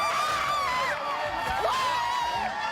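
A crowd at a 2024 total solar eclipse viewing cheers and whoops in a continuous, fairly distant wash of voices.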